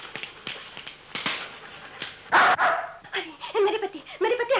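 A dog barks several times in a classic Bollywood romantic film scene, sharp close barks and yips mixed with someone talking.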